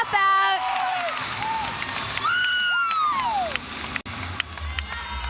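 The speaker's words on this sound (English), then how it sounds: "The crowd is so excited." Crowd at a college gymnastics meet, Air Force at Clemson, cheering and shouting loudly and steadily through a floor routine, with whistles and bright shrieks rising above the roar.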